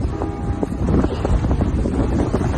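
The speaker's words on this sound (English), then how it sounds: "This wind is ripping." Strong, freezing wind rips across a Long Island beach in late season, blowing sand and buffeting the microphone in loud, continuous gusts with no talk.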